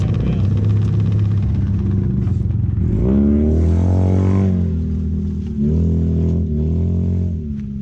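A go-kart engine drones loudly and continuously while driving, rising in pitch as it revs up midway before settling back down.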